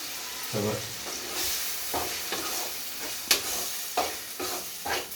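A tomato and salt mixture is stirred in a pan over medium heat for a chicken dish. A soft, quiet sizzle runs underneath as the spatula makes periodic scraping strokes.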